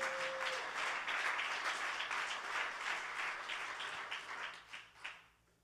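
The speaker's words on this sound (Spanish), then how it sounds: "¿Alguien puede darle un aplauso al Señor Jesús?" Church congregation applauding in praise during a Spanish-language service, a dense steady clapping wash that holds strong for several seconds, then thins into scattered claps and fades out.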